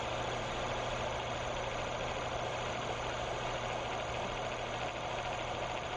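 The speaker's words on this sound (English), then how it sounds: "Now we'll turn on the motor and add the load." An electric motor driving a bearing test rig lubricated with Royal Purple oil runs under a load of four weights, giving a steady, even hum with a constant whirring drone and no change in level.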